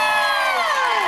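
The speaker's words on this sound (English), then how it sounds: "Now, scream if you want to go faster!" A crowd screams and cheers in one sustained, high-pitched roar of many voices that slides slightly downward over a second.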